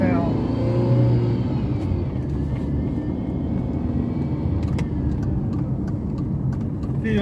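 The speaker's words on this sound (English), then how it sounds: "I'm going for a little bit longer test drive and see how this" A Volkswagen Jetta on a test drive gives off a steady interior drone of engine and road noise, with someone talking over it and a few light clicks near the end.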